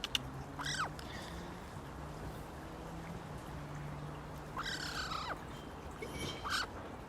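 Faint bird calls come in a few short rising-falling squawks, spaced apart over a low background hum.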